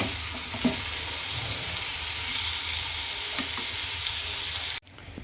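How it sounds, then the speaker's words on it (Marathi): Chopped tomatoes sauté in a pan for whole masoor dal, a dense steady sizzle with a few soft stirring clicks, cutting off sharply near the end to quieter background. "आता कट के करून घेतलेला टोमॅटो पण टाकायचा आहे व्यवस्थित परतून घ्यायचं आहे"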